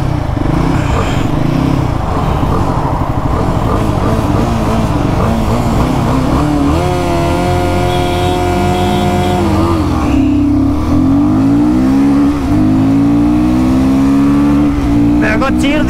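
A Royal Enfield Guerrilla 450 motorcycle accelerates hard in a drag race against a BMW G310R, its loud, close engine note climbing in pitch through several gear changes, with a rider's voice faintly audible.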